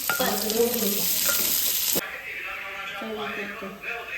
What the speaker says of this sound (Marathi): आता लसूण टाकायचा तडपून द्यायचा चांगला व्यवस्थित कांदा टाकायचा